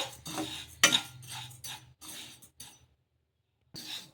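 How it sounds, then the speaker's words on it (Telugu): A spoon stirs wheat semolina roasting in a pan, making a run of rhythmic scraping and clinking strokes up close, then a brief pause before one more scrape. "ఈ రవ్వని కూడా ఇలా బాగా కలిపేసుకొని ఒక కొద్దిసేపు ఫ్రై చేసేసుకుందాము"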